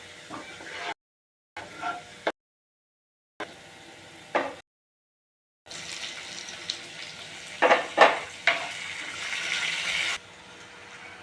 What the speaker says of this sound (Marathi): कांद्याला ब्राऊन कलर आला की आपल्याला हे टोमॅटोसुद्धा टाकून घ्यायचं आहे